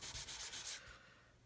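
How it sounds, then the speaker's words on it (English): Steady back-and-forth sanding of a small plastic part of a 1/72 scale B-52 model, rhythmic scraping strokes close up, tapering into lighter rubbing toward the end. "We just keep on sanding away, just keep on sanding away and sanding away"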